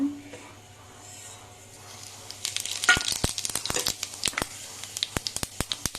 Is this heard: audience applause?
no